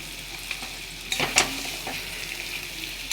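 Mutton fries in a pan with a constant hissing sizzle, broken by a few scraping stirs and a brief louder clatter near the middle. The frying is close and there is no talk.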